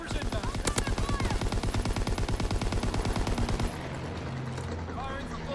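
Rapid automatic gunfire rattles in a shooter video game, dense bursts of shots repeating loudly for several seconds before giving way to quieter game noise.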